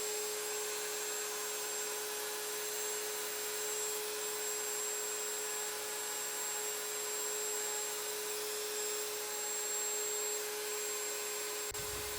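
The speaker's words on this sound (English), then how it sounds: "This is some very technical routering." A power router carves a cedar Grinch Christmas decoration, giving a steady, continuous high-pitched whine with cutting noise. It holds at a constant level throughout with no talking.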